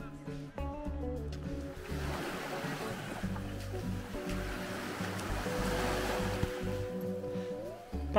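Waves wash continuously onto the sand at Towan Beach in Cornwall, a steady broad surf roar that swells gently, with faint voices murmuring in the background.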